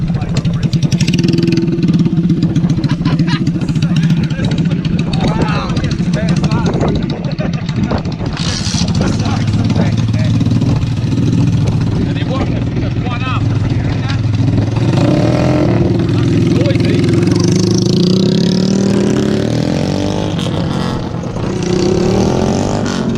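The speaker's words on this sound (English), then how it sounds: "go on a wicked ride around the city centre and have a look through some of the suburbs riding small bikes in a massive group" A massive group of small custom Honda motorcycles rides through a city centre, with many mid-pitched engines droning and revving continuously and loudly close by, and voices heard at times.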